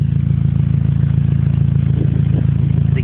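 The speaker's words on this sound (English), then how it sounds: "there is a problem with my exhaust." A car's exhaust runs with a suspected leak somewhere along the pipe, giving a loud, close, steady idle with a rapid, even pulsing throb and no talking.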